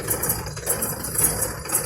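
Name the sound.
car engine idling with noise and vibration underneath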